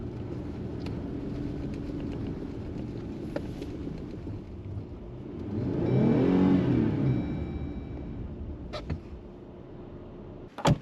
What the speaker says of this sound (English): there is no adding more throttle to get more speed. It just digs.